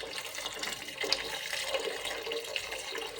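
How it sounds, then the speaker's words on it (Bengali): Water pours steadily into a pot of washed chickpea lentils with green chilies, a continuous close splashing rush with no voices. "দিয়ে দেবো পরিমাণ মতো পানি,"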